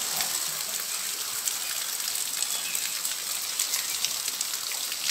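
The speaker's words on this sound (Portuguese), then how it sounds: "Eita, muita chuva em Floranha, agora à noite." Heavy nighttime rain in Rio Grande do Norte, Brazil, falling through a gap in a gate, a dense steady hiss with scattered drips and spatters, loud and unbroken.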